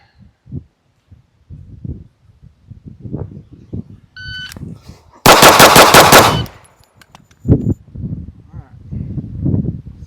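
A handgun fired in a fast burst of rapid shots, a loud, dense, close string lasting about a second, with someone talking quietly before and after.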